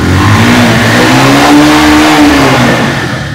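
A Bajaj Pulsar motorcycle engine, an updated disc-brake model in tip-top condition, revs loudly up close. Its pitch climbs and then eases back in one sustained throttle blip.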